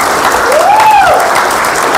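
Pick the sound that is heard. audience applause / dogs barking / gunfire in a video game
audience applause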